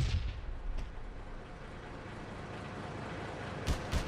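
A tank gun fires at an enemy tank in the WWII strategy game Theatre of War, set near Moscow in 1941. Booming shots come at the start and again near the end, with a low rumble of engines and battle between them.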